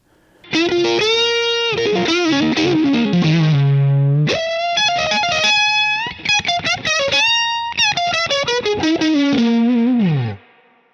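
An overdriven electric guitar plays bending, sustained lead phrases drenched in reverb, loud and up close, with no talking.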